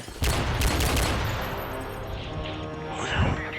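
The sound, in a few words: gunshots in video game Modern Warfare 3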